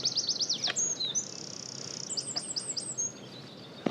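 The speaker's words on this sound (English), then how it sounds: "I can hear that bird chirping" A bird outdoors sings a quick series of bright chirps and trills, loud and close, with short pauses between bursts and no voices.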